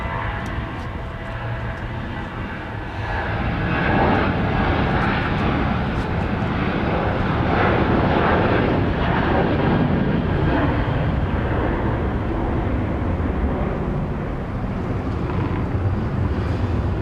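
A Southwest airliner departing Dallas Love Field, its jet engines roaring loudly and steadily as it climbs away, a continuous broadband rumble with some wind buffeting on the microphone.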